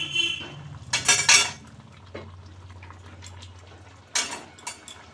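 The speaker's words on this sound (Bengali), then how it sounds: "ঢাকাটা খুলে নেড়ে দিতে হবে, তা নাহলে তলায় ধরে যাবে" Metal lid lifted off a pot of chicken rezala with poppy seed, cashew and yogurt, followed by clanks and scrapes of a spoon stirring, with soft bubbling between the louder metallic knocks, close by and no voices.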